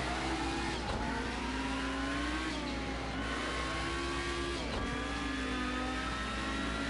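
Race car engine in Project CARS 2 driven around Circuit of the Americas, revving steadily with rising and falling pitch through gear changes, loud and continuous with no voices.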